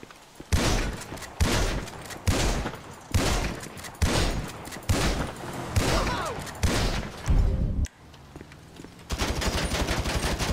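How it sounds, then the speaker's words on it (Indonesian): Repeated loud shotgun blasts fire in GTA 5, each heavy boom spaced about a second apart and dense with echo. A brief pause follows, then a rapid buzzing burst like automatic fire. "Jadinya pakai shotgun aja lah."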